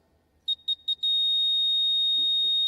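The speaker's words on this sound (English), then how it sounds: "Team 1, if you can press the buzzer" A quiz buzzer at a live juniors quiz finale sounds as three short electronic beeps followed by one long sustained tone, clear and prominent, with faint voices near the end.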